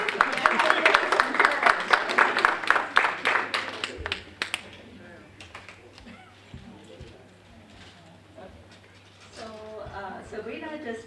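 Applause for newly nominated junior rangers at an alumni association annual meeting, a dense burst of many hands clapping that fades after about four seconds, leaving murmuring and a voice at the end.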